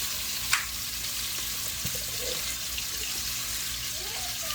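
Cabbage, shrimp, sausage and peppers cooking together in a single pot, a steady broad sizzle and hiss running the whole time with one brief clink near the start, no voices.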